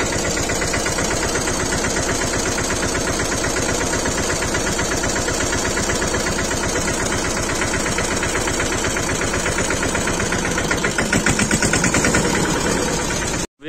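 A tractor engine chugs loudly and steadily at close range, a fast, rough diesel knock throughout before cutting off abruptly at the end.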